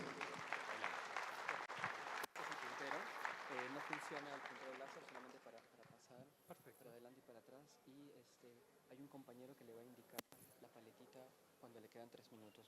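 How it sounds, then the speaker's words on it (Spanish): Audience applause welcoming a speaker at an agronomy and soil technology conference, loud clapping at the start that fades as a voice begins talking over the last scattered claps. "vamos a recibir con fuertes aplausos, señoras y señores"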